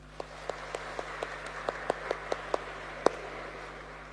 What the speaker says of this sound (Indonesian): Mari kita tepuk tangan untuk Tuhan Yesus